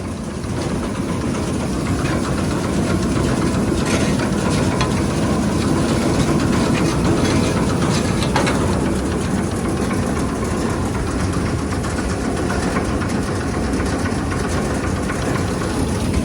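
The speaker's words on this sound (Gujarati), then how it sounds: "આ બાજુ આપણે ટ્રેક્ટર ચાલુ છે ને રોટાવેટર" A tractor running a rotavator during summer field tillage: a loud, steady engine roar with rattling machinery, continuous throughout, close by, with no talking.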